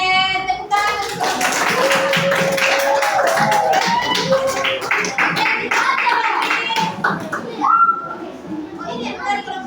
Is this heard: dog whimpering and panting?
no